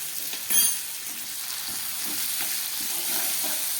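Tomato and potato frying in a pan for a soaked-pea ghugni, a constant close sizzle with soft stirring clatters and one louder knock near the start.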